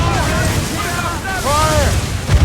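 Ship cannons fire during an Assassin's Creed Rogue naval battle, deep booming blasts rolling under loud shouted voices of the crew.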